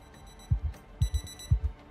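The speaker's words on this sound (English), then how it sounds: "Ah, we had an alarm go off." An alarm going off in a zombie survival video game: short low electronic beeps in spaced pairs, repeating three times over a faint steady background hum.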